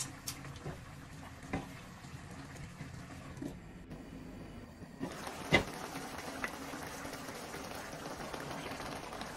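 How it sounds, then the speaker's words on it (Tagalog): Pork adobo simmering in water in a pot, a soft steady bubbling hiss with scattered faint pops and one sharp clink, continuous and fairly quiet throughout. "Tapos isisimmer po natin ng 1 hour hanggat malambot po yung karne."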